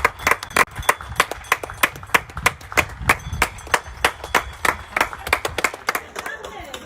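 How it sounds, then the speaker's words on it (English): Thankful applause from people standing at their front doors across the country, heard as steady, sharp hand claps with distinct individual slaps in a loose rhythm, fairly close, with faint voices mixed in underneath. "the country erupted with the sound of thankful applause"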